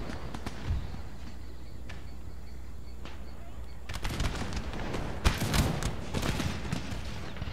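Musket volleys from Mughal line infantry fighting garrison militia in the strategy game Empire: Total War, heard as a dense crackling burst of many distant shots after a few scattered earlier pops, over steady battle ambience.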